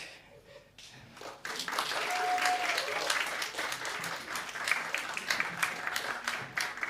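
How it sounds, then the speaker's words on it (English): Audience at a Warwick comedy night breaking into sustained applause, a dense wash of clapping that swells after a quiet start and keeps going, with some voices mixed in. "Keep clapping, John's taking his time."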